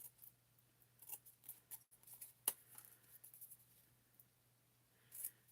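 Scissors snip quietly through white cardstock during fussy cutting, a series of soft, irregular clicks and crisp snips close by over a faint steady hum.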